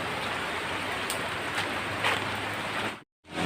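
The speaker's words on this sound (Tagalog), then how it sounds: "umuulan na mga kalingap" Steady rain patters densely on a surface, a continuous hiss with scattered louder drops, cutting out abruptly just before the end.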